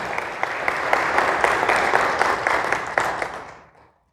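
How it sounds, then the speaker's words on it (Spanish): A church congregation applauding together during a Spanish-language sermon, a steady wash of many hands clapping for about three and a half seconds before fading out. "Dale un aplauso al Señor, gloria a Dios."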